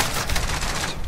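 Rapid automatic gunfire in Call of Duty Modern Warfare, loud and close, a steady crackling stream of shots filling a one-second burst with no talk.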